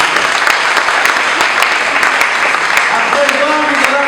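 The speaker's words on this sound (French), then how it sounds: "Applaudissez pour lui." Guests applauding at a civil wedding ceremony, the steady dense clapping close and loud throughout, with voices talking underneath.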